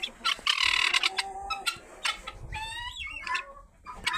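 Ducks and geese call close by in winter snow, a run of honks and squawky quacks overlapping in quick bursts, with no one talking.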